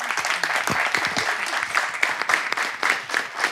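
A church-style audience applauds a pastor, a sustained burst of dense clapping from a crowd that fills the room steadily.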